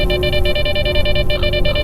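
Warning alarm in the video game S.T.A.L.K.E.R., a steady pulsing electronic tone repeating rapidly and loudly over a dense game soundscape, with no talk over it.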